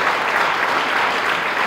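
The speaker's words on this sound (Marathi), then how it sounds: "या शिक्षक वर्गांसाठी कृपया सर्वांनी टाळ्या वाजवायला पाहिजे." A crowd at a junior college prize distribution ceremony applauds the teachers, a loud, dense, continuous wash of clapping with no voices on top.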